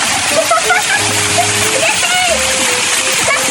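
Loud, steady rush of splashing water fills the clip, with children's voices calling faintly underneath.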